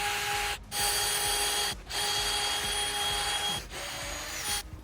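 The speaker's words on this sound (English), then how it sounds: "we'll drill 4 inches down with a 7/16 inch bit" A drill bores a 7/16-inch hole into a wooden mailbox post, a loud steady whine broken by three brief pauses as the bit is eased back and driven in again.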